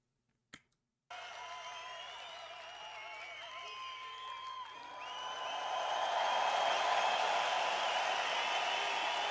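Crowd cheering and applause in a music video, a dense wash of massed voices over a steady low hum that swells louder and fuller in the second half, with no talk over it.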